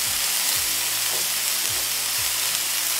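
Broccoli stir-fried and tossed in a hot pan with chicken and capsicum, giving a loud, continuous sizzle with faint scraping of the tossing underneath.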